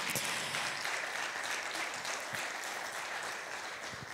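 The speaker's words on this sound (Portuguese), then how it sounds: "Você pode aplaudir a Jesus por isso?" A church congregation applauds Jesus during a Portuguese-language service, sustained fairly faint clapping from many people, steady throughout with scattered sharper claps.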